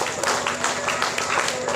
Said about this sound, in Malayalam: എല്ലാവരും കൈയടിച്ച് പ്രോത്സാഹിപ്പിക്കണം